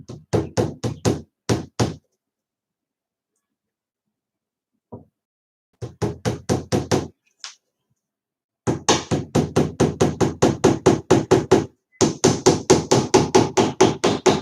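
Hammer striking a nail into a wooden shelf during a home build: loud, close, rapid blows in quick bursts separated by pauses, ending in longer sustained runs of steady hammering.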